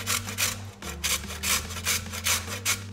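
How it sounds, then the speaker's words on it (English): Fresh beetroot is roughly grated on a box grater in a kitchen, giving close, rhythmic rasping strokes in quick succession over a low steady hum. "you just want a box grater and you just want to roughly grate the beetroot"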